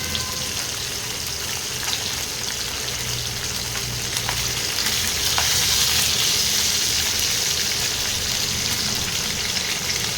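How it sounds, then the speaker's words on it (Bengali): Parshe fish fry in oil with a loud, continuous sizzle that swells slightly halfway through and stays close and steady. "মাছগুলো এবারে ভেজে নিই, ভেজে নিয়ে তারপরে রান্নাটা আরম্ভ করবো।"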